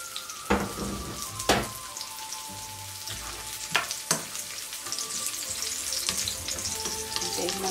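Garlic frying in a pan with a steady sizzle, punctuated by several sharp clacks and scrapes of stirring, close and fairly quiet.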